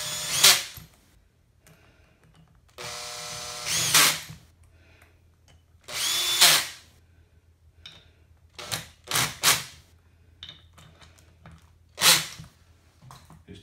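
Torque wrench tightening T30 bolts on an LS M-295 oil pump, several short loud ratcheting bursts separated by quiet pauses, close by in a workshop.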